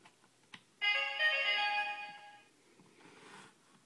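Gokaiger Gokai Saber roleplay toy chiming a short electronic ring when powered on, a single bright tone lasting under two seconds after a small click, then fading to faint noise.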